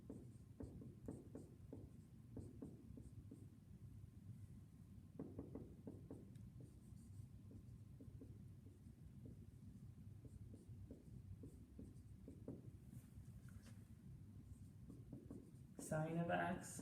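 Chalk or marker strokes on a board during a math lecture: a long run of soft, rhythmic scratching taps, faint and steady, over a low murmuring voice, ending in a brief louder rustle.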